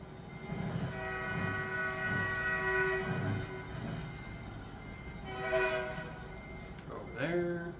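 A train in the video game American Truck Simulator rumbles past with a long, steady horn blast in the middle, then fades and sounds again briefly near the end, fairly close and loud.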